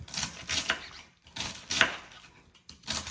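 A knife chopping cabbage on a board in a home kitchen, quick clusters of crisp, close taps separated by short pauses.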